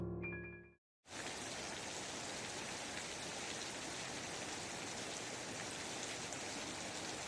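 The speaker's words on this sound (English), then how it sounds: "I wake up to the sound of raindrops hitting the window" Rain pattering against a window glass, a dense, even hiss that starts abruptly after a short silence and continues steadily without a break, a brief musical tone sounding just before it.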